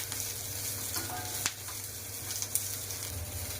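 Curry leaves sauté in a pan for a Tirunelveli sodhi kuzhambu, giving a steady, fairly quiet sizzle with a few soft clicks and pops and no talking.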